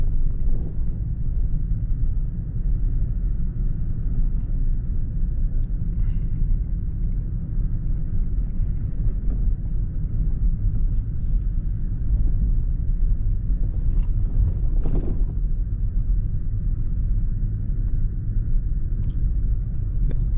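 Lifted 2020 Toyota Tacoma driving on snowy backroads in four-wheel drive, a constant heavy cabin rumble of engine and tires, loud and unbroken, with a few faint thumps and clicks over it and no talk.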